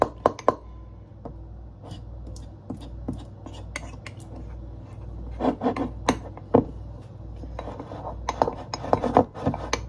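A spoon scrapes and clinks against the sides of a mug in irregular bursts, stirring thick mug-cake batter, with a low microwave hum underneath.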